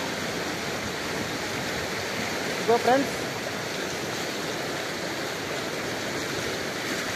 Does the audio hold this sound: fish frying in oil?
no